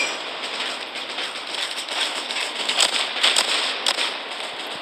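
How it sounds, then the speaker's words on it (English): Explosions from a dive bomber attack in the World War Polygon video game, a steady crackling roar of blasts with sharper bursts near the middle and end, loud and continuous. "Oh, shoot, there's dive bombers."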